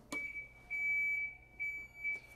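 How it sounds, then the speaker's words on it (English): An Advance SC5000 floor scrubber in reverse sounds its backup alarm, a shrill electronic beep repeating in long and short pulses, loud and close over a quiet hum. "There's an audible backup alarm"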